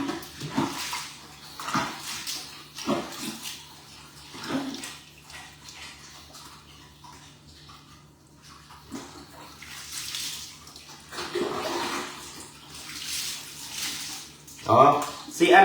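Water splashing and pouring while a dog that enjoys cold water is bathed outdoors, coming in uneven bursts near the microphone with quieter gaps between them, and a voice talking intermittently over it.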